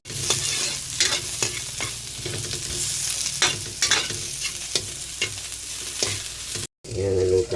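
Onion sautéing in a pan with garlic and ginger, a continuous close sizzle broken by regular scraping stirs of a utensil, briefly cut off near the end before resuming.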